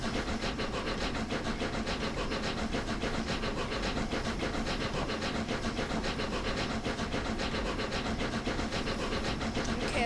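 Flying Scotsman steam locomotive in dark green livery, simulated in Train Simulator, gives a steady, loud rumble and hiss of steam and running engine that continues without a break, with no voices.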